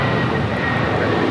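A United Airlines Boeing 757-300 taking off from Los Angeles airport bound for Chicago, a continuous broad low engine roar heard from a distance, steady and unbroken with no voices.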